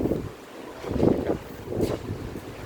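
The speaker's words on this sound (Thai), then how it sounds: "โอ้ยลมเย็น" Gusts of wind buffet the microphone in uneven surges, rumbling low and swelling twice before easing off.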